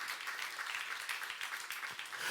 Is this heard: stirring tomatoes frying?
no